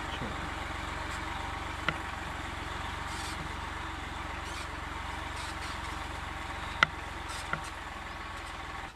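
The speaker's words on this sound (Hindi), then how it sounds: "अब ये ट्रैक्टर घूम रहा है उधर मेर पे जाने के बाद में" A tractor engine runs steadily while turning at the edge of a field during deep ploughing in Madhya Pradesh, a constant low drone with a few brief knocks, heard alone.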